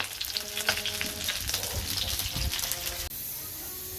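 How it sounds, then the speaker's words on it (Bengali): Fish frying in a pan at home while lunch cooks, a dense continuous sizzle with some stirring and clatter, close and fairly loud, without talk. "আর এদিকে মাছগুলো ভাজা হচ্ছে"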